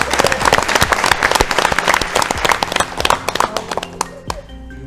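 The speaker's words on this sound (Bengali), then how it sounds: "জোরে হাততালি একবার তাদের জন্য।" An audience at an agricultural quiz show claps loudly and steadily, the applause thinning out toward the end, with no talk.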